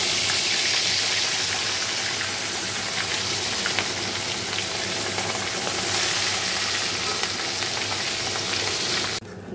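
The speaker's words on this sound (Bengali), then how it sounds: "তো মাছটা এবার ভেজে নেবো।" Fish frying in hot oil makes a loud, dense, continuous sizzle that holds steady for about nine seconds, then drops off abruptly at the end.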